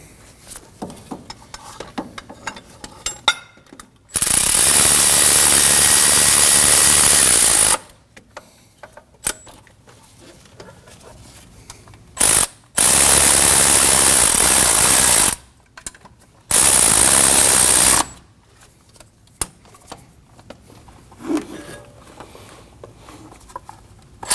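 A power ratchet tightening the knock sensor bolts on a 2015-2022 Chevrolet Colorado 3.6L V6: three loud, sustained, buzzing mechanical bursts of a few seconds each, separated by quieter workshop stretches.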